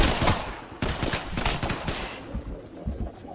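Video game gunfire, rapid automatic bursts of sharp shots rattling close and loud, fading slightly toward the end with scattered single shots.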